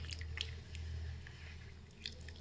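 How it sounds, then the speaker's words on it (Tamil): Soaked tamarind, about a lemon's worth, squeezed and kneaded by hand in water for a green tamarind rasam, giving soft wet squishes and small drips, close up and quiet over a low steady hum, with no talking. "நம்ம எலுமிச்சளவு புளியை நம்ம ஊற போட்டு நல்லா இப்படி பிசைஞ்சு எடுத்துக்கோங்க"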